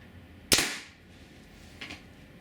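A Scarab Arms TGR2 MK2 airsoft sniper rifle with a 300 FPS spring fires rubber rounds: one sharp close crack with a short decay, followed by a fainter snap over a second later.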